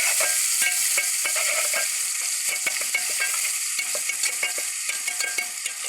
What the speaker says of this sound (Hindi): अब हम इसको मिक्स करेंगे अच्छे से।